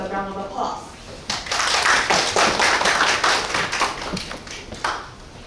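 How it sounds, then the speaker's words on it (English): Audience applause at an international symposium on WHO pandemic agreement negotiations, welcoming a presenter: a burst of many hands clapping starts after a brief faint voice, holds steady and loud, then tapers with a few final claps. "Let us welcome Professor Wu with a round of applause"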